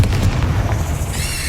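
Explosive spell blasts from Bombarda and Confringo erupt in Hogwarts Legacy, a continuous booming, crackling rumble that stays loud throughout, with a bright fizzing burst near the end.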